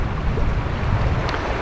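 Strong wind buffets the microphone beside the Dempster Highway near Tombstone in Yukon, a loud steady roaring rush that continues unbroken.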